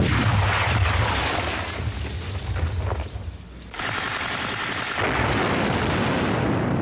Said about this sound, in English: That's Ben recording ricocheting rifle shots.